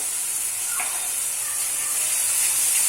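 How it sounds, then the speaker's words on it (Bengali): Ground turmeric, cumin and coriander powder frying in a pan for a pulao and chicken curry, a steady bright sizzle and hiss that holds evenly throughout, close and continuous. "এখন মশলাটাকে ভালো করে ভেজে নেব।"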